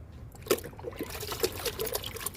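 Cooling liquid trickles and splashes onto a heat-stressed, drought-damaged potted plant, a Song of India, in a series of soft close dribbles and small pours with no talking.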